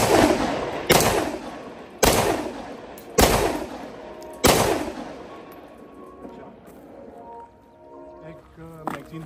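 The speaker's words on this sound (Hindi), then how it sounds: "एक मैगजीन हमने इस पर चला लिया, ठीक है, 9 राउंड्स का ये मैगजीन था।" A Zastava M57 .30 bore pistol fires five sharp, loud shots at roughly one-second intervals, each with a ringing decay, followed by quieter handling noise and a faint voice.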